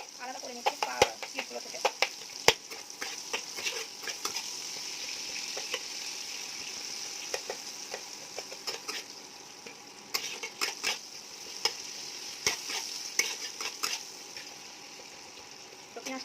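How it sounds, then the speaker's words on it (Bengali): Onions frying in a pan while a spatula breaks apart stuck pieces, giving a steady close sizzle with repeated sharp scraping clicks and knocks of the spatula against the metal. "পেঁয়াজগুলো একটু লেগে আছে বলে এটাকে একটুখানি খুন্তি দিয়ে থেকে ভেঙে নিচ্ছি, আলাদা করে নিচ্ছি পিসগুলো থেকে।"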